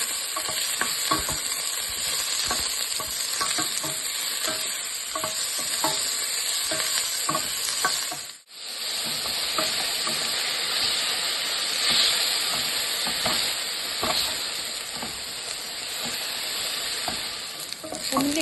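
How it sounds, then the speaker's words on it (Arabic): Chopped onion fries in hot oil in a pan for a chicken and barley soup, with a continuous loud sizzle broken by stirring scrapes and a brief lull partway through. "غادي نضيف عليها البصله ونخليها تتحمر شويه"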